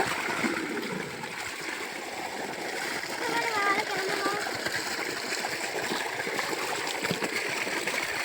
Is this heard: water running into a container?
yes